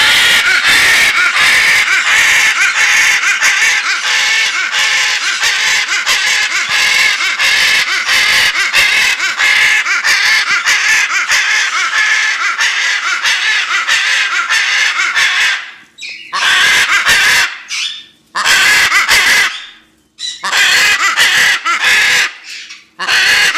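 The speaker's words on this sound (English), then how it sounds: "That's a loud macaw. That's a very loud macaw." A macaw at a bird rescue screams loudly and almost continuously, harsh piercing calls filling the first fifteen seconds, then breaking into several separate bursts with short pauses between them.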